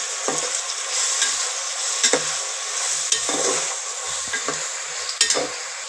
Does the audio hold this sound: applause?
no